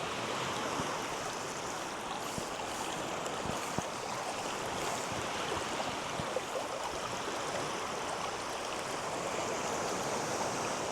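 A small stream on the Latvian coast rushes steadily into the sea, a continuous wash of flowing water with no voices.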